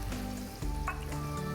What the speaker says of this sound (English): While this is frying